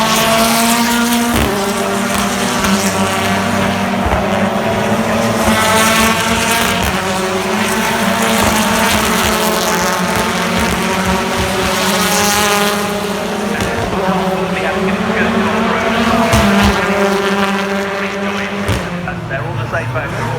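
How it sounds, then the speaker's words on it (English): BTCC touring race cars, Hondas among them, scream past at Silverstone with high revving engines and gear-change steps, loud and close throughout, while a commentator talks over the racing. "behind both of the BTC racing Hondas and Andre Hunters and his teammate."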